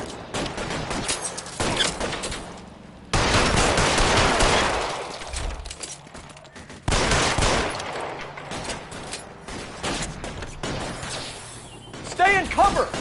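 Gunfire in L.A. Noire, with rapid bursts and volleys of shots alternating with quieter gaps, loud and close, while voices talk between and over the shooting.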